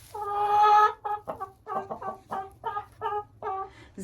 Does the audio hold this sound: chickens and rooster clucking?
yes